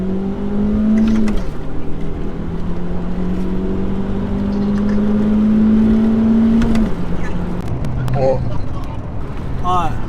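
An Audi TT's engine drones as it accelerates during a race, its tone climbing steadily before a gear change drops the pitch, loud and close from inside the car, with a voice talking over it.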